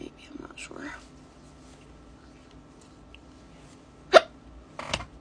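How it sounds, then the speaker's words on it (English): Several abrupt hiccups from a person doing makeup, two sharp ones near the end, following some quiet breathy sounds and murmuring. "I swear I'm not dealing with these flippin' hiccups today."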